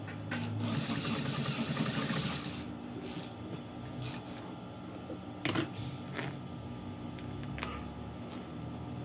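Sewing machine with a presser foot that won't lift properly, stitching in a fast, dense whir for about two seconds, then a softer running hum with scattered clicks and knocks, fairly faint and close.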